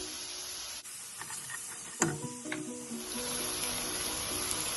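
Cubed onions stir-fry in a pan for chicken pie filling, a soft continuous sizzle and hiss with a few clinks and scrapes of a utensil stirring, fairly quiet and close.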